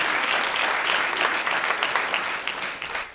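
An audience at the Cusp 2017 event gives a round of applause: close, dense clapping that starts strong and slowly thins toward the end, with no talking over it.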